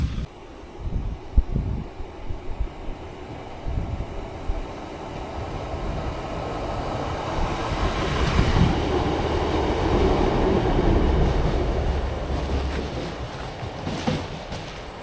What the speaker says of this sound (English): luckily a train went past at that time on a single track